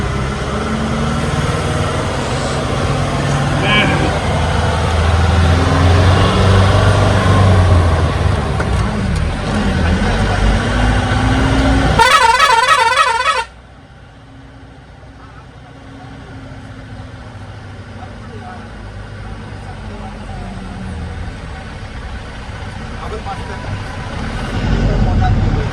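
Cars of a group gathering at Nhavankond waterfall start off one after another, engines idling and rumbling close by under people's talk; the noise cuts off abruptly midway, then faint traffic and voices slowly build again.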